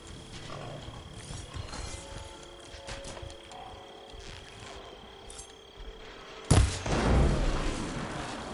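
Mechanical clanks, whirring and metallic ratcheting from robotic machine creatures in Horizon Forbidden West sound throughout at a steady moderate level, and a loud burst near the end sets off a fuller, noisier stretch of combat.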